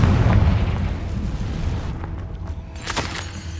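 A Confringo fire spell blast in Hogwarts Legacy, a loud booming burst at the start that rolls off into a fading rumble, with a crackling tail near the end.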